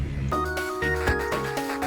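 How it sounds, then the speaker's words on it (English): A phone rings with a melodic ringtone, sustained tonal notes rising and shifting steadily across a couple of seconds, fairly loud and close with no talking. "One moment, the phone is ringing."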